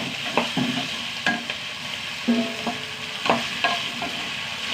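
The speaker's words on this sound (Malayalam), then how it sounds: "വഴറ്റുക, നന്നായി വഴറ്റട്ടെ കേട്ടോ." Potatoes sautéing in oil in a pan, with a steady soft sizzle broken by repeated scraping and stirring strokes of a spoon at an uneven rhythm, close up and without talk.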